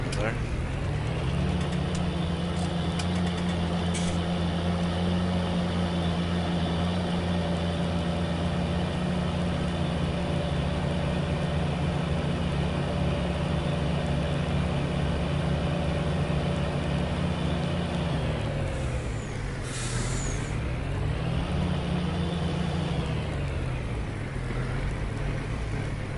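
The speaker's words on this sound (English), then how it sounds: "Yeah, this tractor will work fine, getting a few loads back and forth." A tractor engine drones steadily while driving in Farming Simulator 19, a continuous low rumble whose pitch dips and rises briefly near the end, with a voice talking over it.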